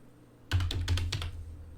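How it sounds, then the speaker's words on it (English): Computer keyboard typing commands, a quick burst of about six close clicking keystrokes in an uneven rhythm, then quiet. "I don't know why it's typing really slow."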